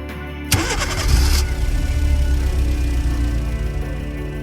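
A car engine starting in an animated cartoon, a sharp crank followed by a steady mid-pitched idle rumble that continues close and fairly loud.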